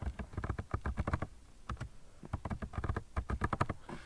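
Rapid keystrokes on a Chromebook keyboard while entering a Linux account password, close and clear, in quick bursts with a short pause midway and no talking.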